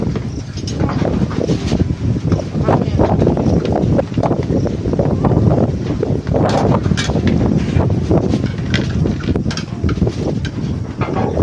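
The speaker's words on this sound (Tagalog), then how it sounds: "Mahangin." Gusty wind buffeting the microphone, loud and continuous with rumbling low bursts throughout, no speech.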